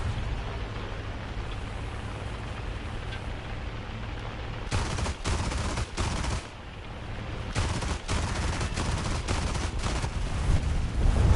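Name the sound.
gunfire in the video game War Thunder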